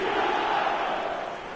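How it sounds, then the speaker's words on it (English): Stadium crowd in an eFootball match roaring in reaction to play, a sustained, even wash of cheering voices at moderate level with no commentary over it. "the crowd are reacting to that now"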